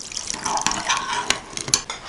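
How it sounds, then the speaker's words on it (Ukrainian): Warm milk pours and drips into a bowl close by over crumbled fresh yeast and sugar, with light clinks of a utensil against the dish scattered throughout. "вливаємо тепле молоко"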